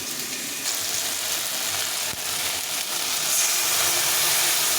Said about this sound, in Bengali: এখন আমি এই মশলাটা দিয়ে দেবো